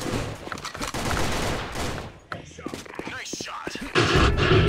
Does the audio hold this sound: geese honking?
no